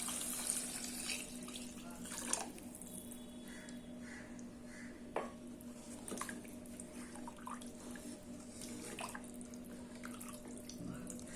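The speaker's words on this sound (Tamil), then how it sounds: "அதுக்கு 2 கப் அளவுக்கு தண்ணி ஊற்றிக்கலாம்" Water pours steadily into a cooking pot while making tomato rice, a continuous soft splashing trickle with occasional faint clinks, no talking.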